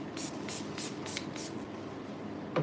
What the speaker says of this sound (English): We're gonna spray her down with some Hydra Strength leave-in spray.